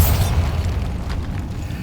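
A Bombarda explosion spell in Hogwarts Legacy goes off as a single loud blast right at the start, then its rumbling tail fades away over the next couple of seconds.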